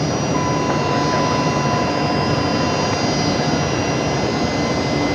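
A Velocity jet airliner at Brisbane Airport bound for Sydney, a steady loud jet engine roar with a sustained whine, continuous and close with no talk.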